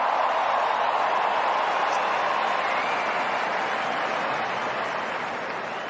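Huge stadium crowd of 95,000 fans at an Anzac Day football match roaring and cheering in a steady, dense wash of noise that stays loud throughout, easing slightly near the end.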